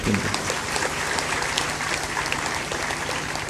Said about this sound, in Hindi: इनके लिए ताली बजाकर